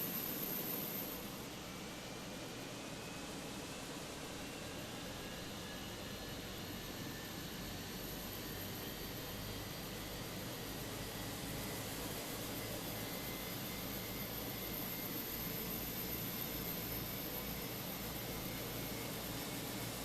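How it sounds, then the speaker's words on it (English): Airbus A320 jet engine starting up in a Fenix flight simulator, a steady broad whoosh and rising whine that holds level throughout, fairly faint with no talking. "Let's see if we can get the engines fired up, starting with engine number 1."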